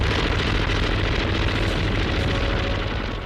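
An MG-42 machine gun fires at about 1,500 rounds a minute in one loud, unbroken roaring burst that lasts around three seconds, so dense that the separate shots blur together.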